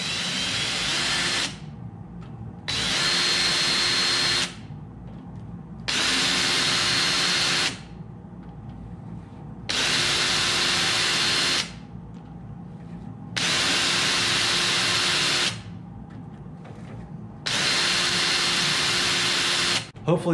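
A chainsaw chain is sharpened with a file bit driven by a hammer drill, its loud whining buzz running in repeated bursts of about two seconds, each separated by a short lower-pitched pause.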